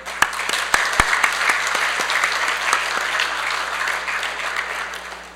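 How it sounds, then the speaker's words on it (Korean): Applause from a church congregation welcoming a newly arrived visitor during a service, a steady dense clapping that fills the room for several seconds, with a few sharp louder claps standing out near the start. "자리에서 일어나시면 박수로 환영해 드리겠습니다."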